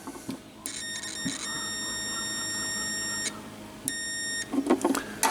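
An electrical continuity tester gives two steady buzzing tones while checking a lubrication pressure sensor, the first lasting over two seconds, the second shorter, with faint clicks and handling noise around them.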